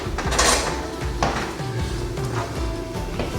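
Someone rummages for a knife sheath in a kitchen by a butcher block, producing a few close, clattering knocks and rattles of utensils and hard objects being shuffled around.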